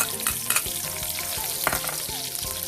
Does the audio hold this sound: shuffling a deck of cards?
no